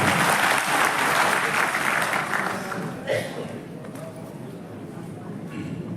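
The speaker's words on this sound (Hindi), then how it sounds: "पुरजोर तालियों में इस्तकबाल करें जनाबे अब्दुल कदीर असद" Audience at an All India Mushaira in Ahmedabad welcomes a poet with a burst of applause. Dense clapping starts loud and fades toward the end, with faint voices and room noise underneath.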